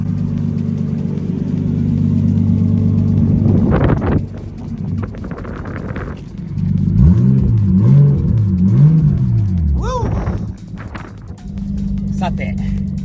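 Modified Nissan Skyline with lowered suspension and chunky tires pulling away, its engine idling then rising and falling through revs with wind buffeting the microphone, while people talk over parts of it.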